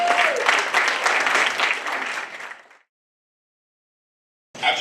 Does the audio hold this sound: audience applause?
yes